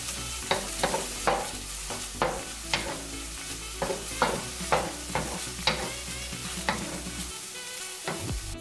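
Stir-fry vegetables are stirred in a pan over very low heat, with rhythmic scraping strokes about twice a second over a soft steady sizzle. No one speaks.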